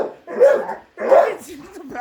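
A Staffordshire bull terrier puppy barks at a robot vacuum indoors: two loud, close, yappy barks followed by a shorter whining yip.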